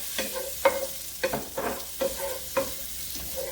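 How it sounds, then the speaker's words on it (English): Onions and garlic frying in heavy butter in a heated skillet, a quiet sizzle broken by several sharp clinks and scrapes of stirring at an uneven pace. "So let's get the skillet heated up, y'all. Okay, so let's drop over the onions and the garlic."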